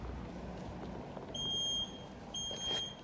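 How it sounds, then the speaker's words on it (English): Two high-pitched electronic anti-rollaway warning beeps from a golf cart being pushed, the first longer than the second, sound over a low rumbling background. "if it poses resistance and beeps at you, that's the anti-roll away"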